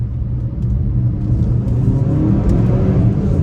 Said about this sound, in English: Nice sharp rev match downshifts.